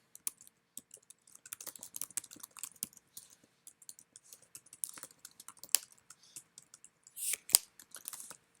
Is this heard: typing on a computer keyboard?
yes